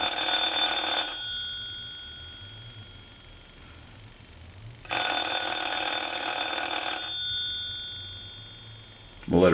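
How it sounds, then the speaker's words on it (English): An old mechanical Italian wall telephone bell rings in two long bursts separated by a few seconds of quiet, loud and close, with a metallic clatter. "let's go ahead and ring this telephone"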